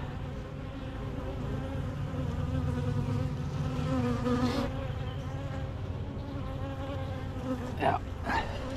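Honey bees swarm around an opened hive during an inspection, their dense, steady buzzing close and continuous throughout, with a faint voice now and then underneath.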